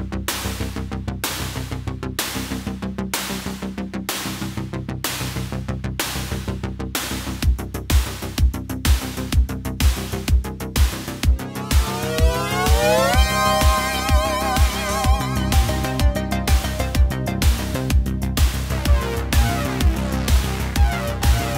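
Synthesizer intro of a track, a rapid pulsing sequenced rhythm that thickens as a steady bass pulse enters and a sweeping lead rises partway through, continuous and alone.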